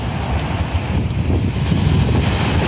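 Surf breaking on a stony pebble beach in Batumi, Georgia, heard as a steady broadband wash with wind noise, loud and continuous, with no voices.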